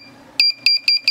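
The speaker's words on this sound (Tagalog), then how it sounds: "Buzzer. Yan ang ating project, buzzer. 'Di ba? Tumutunog pag pinindot." A homemade battery-powered buzzer with a push button sounds four short, shrill electronic beeps in an uneven rhythm, loud and close over a faint background hum.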